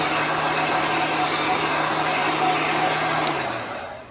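A steady, loud electric blowing whir with a constant low hum, running evenly for several seconds before tapering off at the end.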